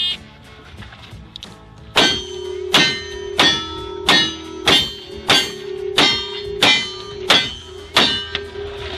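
Gunshots ring off steel targets at a Table Rock Rangers cowboy action shooting match, about ten sharp metallic clangs in a quick, fairly regular sequence, each one ringing briefly before the next, loud and close.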